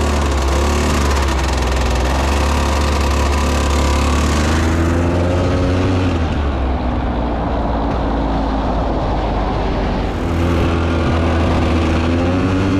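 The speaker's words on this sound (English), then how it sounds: "I got it running, got it warmed up. So let's take it for a spin." A Polaris Scrambler 400 ATV engine drones loud and close while riding around a yard, a continuous buzzing roar whose pitch rises and falls as the throttle changes.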